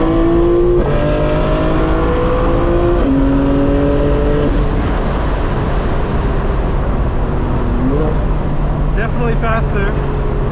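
A 2025 BMW M4 Competition engine pulls hard while driving, its pitch climbing and dropping through several gear shifts, loud and close from inside the car with a voice over it.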